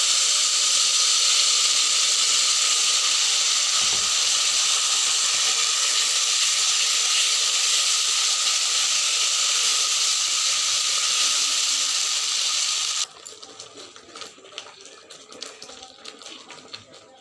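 Green banana peel paste hitting hot oil with browned fried garlic: a loud, steady broadband sizzle up close that holds for about thirteen seconds, then drops abruptly to faint crackles and small pops.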